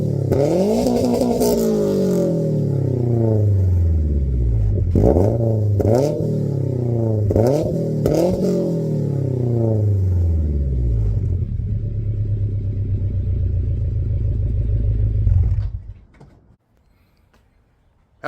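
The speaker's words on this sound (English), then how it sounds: "You heard my 2022 Subaru BRZ Limited with the successfully installed PLM catted headers." A 2022 Subaru BRZ Limited with PLM catted headers revs loudly through several climbing pulls, each rising then dropping, before settling into a rumbling idle that cuts off, leaving near silence.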